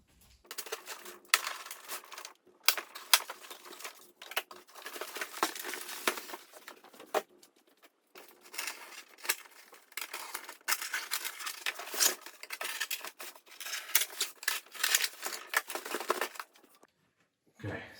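Toy packaging box with styrofoam inserts, holding a Spiral Studios Godzilla 2001 figure, being cut open up close: uneven bursts of crackly scraping, rustling and snapping that stop briefly and resume.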